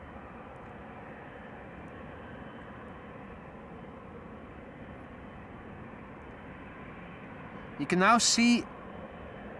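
Airliner engines run steadily at Amsterdam Schiphol before taxi, a continuous broadband roar close by with brief talk near the end.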